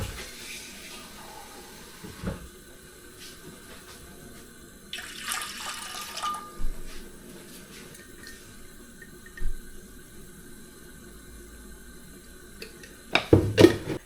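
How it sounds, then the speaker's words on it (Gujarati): Water is poured into a cooking pot to boil rice, heard as two brief splashing bursts over a quiet, steady background hum, with no talking. "પાણી નાખી દઈએ"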